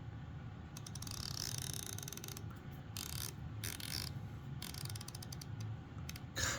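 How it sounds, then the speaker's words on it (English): Turret adjustments on a Sightron SVIII ED rifle scope, heard as runs of fine, rapid mechanical clicks in several bursts, close but quiet, partly masked by a steady hum from an air conditioner running throughout. "Here's the turret sounds"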